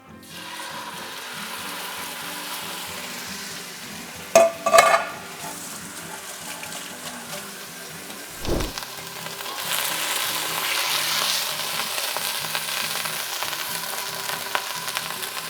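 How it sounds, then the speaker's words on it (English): Food sears in a hot cast iron pan with avocado oil, giving a steady, close sizzle with a couple of clanks and a thud partway through. The frying swells louder toward the end. "we've got a beautiful cast iron pan with some avocado oil that's heating up. And let's just drop that in."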